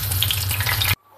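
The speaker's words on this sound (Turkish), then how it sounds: "2. postamı kızartacağım." A batch of eggplant sizzles loudly in hot oil in a pot, a dense, steady crackle that stops abruptly into near silence.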